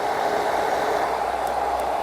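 A steady, loud whooshing hum of a hair dryer running continuously at close range, powered by a Bluetti AC180P power station, with no breaks.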